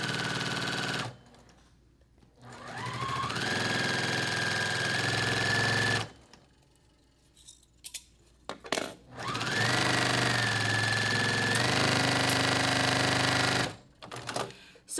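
Sewing machine stitching scrap fabric quilt pieces: a steady whirring motor hum in three long runs of several seconds each, separated by quiet pauses with small clicks and handling noises.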